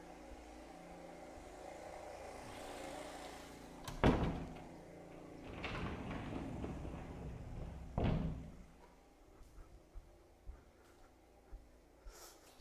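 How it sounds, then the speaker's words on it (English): A door is pushed shut indoors with a couple of thuds and sliding scrapes at intervals, moderately loud against a quiet room, with faint background noise between. "Just going to shut the door and make it a bit less noisy."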